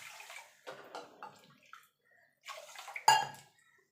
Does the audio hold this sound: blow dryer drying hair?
no